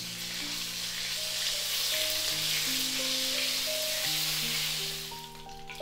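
Butter melts and sizzles steadily in a hot pan for a stew of chicken, potatoes and carrots, a continuous close crackle with faint stirring scrapes and no talk.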